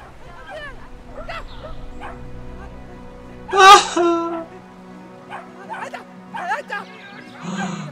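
A dog barks and yips while attacking, with a loud burst of barking in the middle followed by smaller whimpering yelps, mixed with voices throughout.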